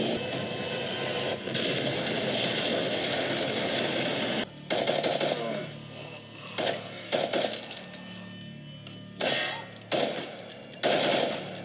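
Bursts of automatic gunfire from a battle scene in The Walking Dead season 8, episode 1: loud, rapid volleys that start and stop repeatedly, with brief gaps between bursts.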